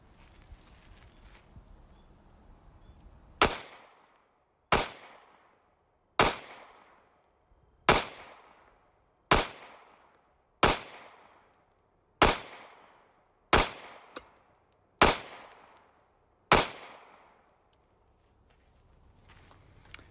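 A Sig Sauer P365 pistol fires ten single shots outdoors at a steady, unhurried pace, each sharp crack loud and close with a short ringing decay, after a quiet lead-in.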